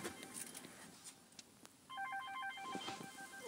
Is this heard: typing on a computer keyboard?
no